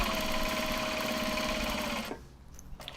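Sewing machine stitching the lining of a cat head pouch, quick steady whir with fine rhythmic ticking for about two seconds, then stopping, leaving faint handling noises.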